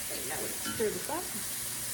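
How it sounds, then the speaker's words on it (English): Vegetables and spices sizzling in a pan while being stirred, a soft continuous hiss with faint scraping, and a voice murmuring briefly underneath. "Okay, now we'll stir this up."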